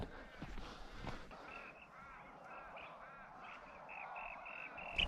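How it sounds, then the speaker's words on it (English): A small honeyeater swoops low and gives a rapid series of sharp, repeated chirping calls close by, over a steady outdoor background. "Little bird there sweeping me. Little honey eater."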